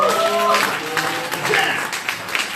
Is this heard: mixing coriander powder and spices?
no